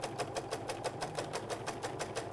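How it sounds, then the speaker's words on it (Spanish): Sewing machine running a tight zigzag stitch at maximum width with very short stitch length, a steady rapid mechanical rhythm of evenly spaced needle strokes, close and continuous with no talking. "La puntada que voy a estar haciendo es zigzag."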